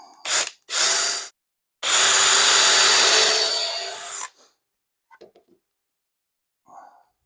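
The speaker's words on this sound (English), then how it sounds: "So I'll drill these two." Power drill boring holes in wood for a simple step stool, two loud whirring bursts: a short pair of blips and then a sustained run of about two and a half seconds, followed by faint handling clicks.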